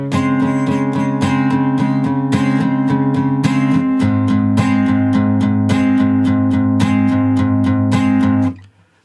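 An acoustic-sounding guitar plays the verse of a song, steady rhythmic strums over ringing chords with a bass-note change midway, loud and close, alone until it stops cleanly at the end.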